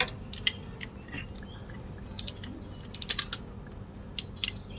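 Sharp metallic clicks of a torque wrench ratcheting on an intake manifold bolt of an Isuzu 1.9 engine, several close-up snaps in irregular bursts over low background hum.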